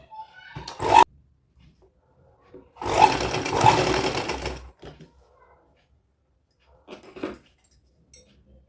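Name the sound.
sewing machine top-stitching a baby girl's midi dress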